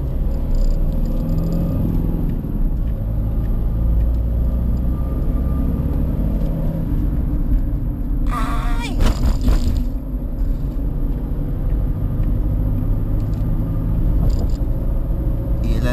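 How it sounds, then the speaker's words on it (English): A manual car's engine revs up during a rev-match downshift into second gear, a steady loud rumble with a brief rise partway through, heard from inside the cabin. "rev match downshift to second gear."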